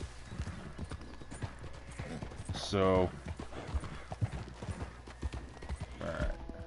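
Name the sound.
horse hooves in the video game Jailbreak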